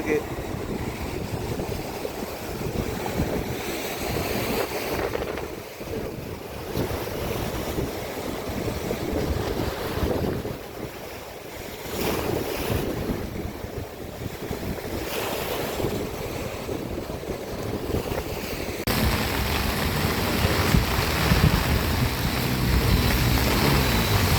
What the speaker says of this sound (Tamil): கடல் அலை தாண்டவம் இன்னும் முடியல